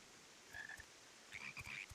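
Toads croaking in Final Fantasy XIV, two short bursts of chirpy, trilling croaks, the second longer and more repeated, heard faintly over a quiet game backdrop with no talking.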